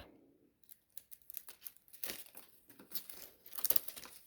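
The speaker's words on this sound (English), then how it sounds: "Excuse me while I reach for my scissors. I'm going to trim them way back." Crisp crinkling and snipping of plant foliage with scissors, a steady run of short clicks and rustles close by, with no voices.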